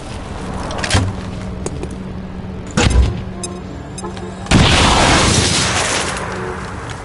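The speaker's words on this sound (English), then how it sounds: "Throwing grenade." Grenade explosion in the video game XCOM 2, a heavy boom that sets off a sustained loud roaring rumble after earlier thumps of combat, with no talking over it.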